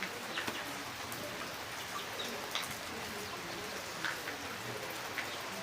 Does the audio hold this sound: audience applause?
no